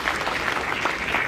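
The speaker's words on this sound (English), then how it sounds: "Just give them a round of applause" A brief burst of dense audience applause at a Republican election-night watch party, many hands clapping loudly and evenly at close range.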